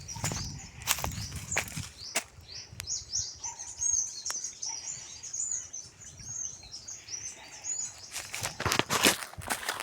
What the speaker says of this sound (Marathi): आमच्या कोकणातल्या बागेतनी पक्ष्यांचं मस्त किलबिलाट चालू असतं